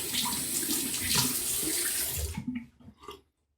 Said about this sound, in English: I'm going to use warm water to rinse.